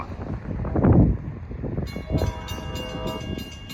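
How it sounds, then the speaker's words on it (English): Long Island Rail Road train 78, led by DE30AC locomotive 418 with a K5LA horn, approaches on the Montauk Branch: a low rumble swells, then sustained multi-tone horn chords sound in repeated blasts over rolling wheel noise. "Now you can hear train 78 coming at 4:38."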